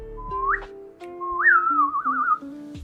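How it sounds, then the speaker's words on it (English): Someone whistles by sucking air in rather than blowing out, producing a rising, wavering melodic tone in two phrases, close and clear over faint background hum, with no talk. "that's how I whistle, by sucking the air in."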